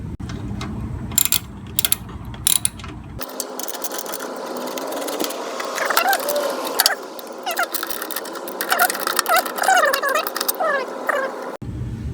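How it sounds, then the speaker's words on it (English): Three 5/16 screws are driven out of the control panel of a 33-inch-cut Snapper mower with a Vanguard engine, heard as a close, rapid mechanical ratcheting whir from a power driver in bursts, with short clicks and pauses between screws. "let's go ahead and unscrew those"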